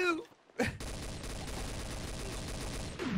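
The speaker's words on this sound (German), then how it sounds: "Ja, ich hab einen Schuss abgegeben. Okay. Wer schießt da?" Rapid volley of gunfire in Garry's Mod, loud and continuous for a couple of seconds, with brief voice sounds at the start and end.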